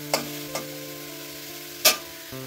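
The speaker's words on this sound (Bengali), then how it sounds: "যে গ্রেট করা গাজরগুলো ছিল সেগুলো কেটে আগে ভেজে নিচ্ছি ঘিয়ের মধ্যে" Grated carrots fry in ghee with a faint, steady sizzle under a low hum, broken by three brief spatula taps against the pan.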